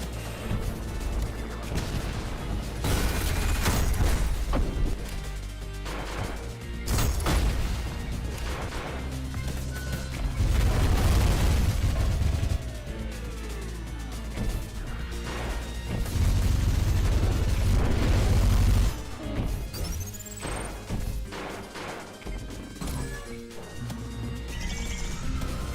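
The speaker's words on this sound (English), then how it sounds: "A symphony of explosions." A dense string of explosions from the ULTRAKILL video game, loud crashing blasts and thwacks piling up in quick succession over frantic combat noise.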